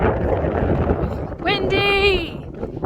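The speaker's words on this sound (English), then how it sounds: "Windy!" Gusty wind buffets the microphone with a rough, rumbling roar, and a short exclaimed voice rises over it midway.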